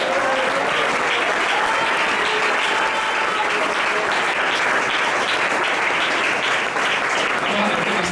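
A church congregation breaks into sustained, dense applause that fills the space evenly from start to finish, with no gaps or pauses.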